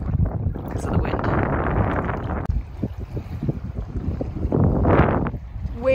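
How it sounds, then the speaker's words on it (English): Strong gusting wind blusters into the microphone on an Algonquin Park backcountry lakeshore, loud and continuous with rushing surges and a boat on the water nearby, while people talk. "Way too windy here."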